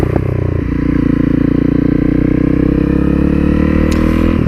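A Honda CRF 250L motorcycle rides a countryside track along a loch-side glade, its engine a loud, steady near drone with rattling and clatter throughout and no talk.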